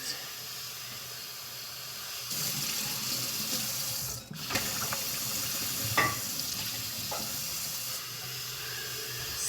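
Tap water runs steadily as broccoli sprouts are rinsed in a sink, with a continuous hiss and splash that grows fuller partway through, plus a few brief knocks and clicks.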